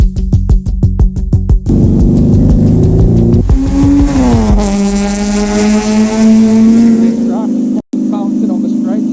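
GT3 race car driving on a circuit in Guyana, with a loud, close engine rising and holding at high revs, rapid gear changes, and a brief cut near the end.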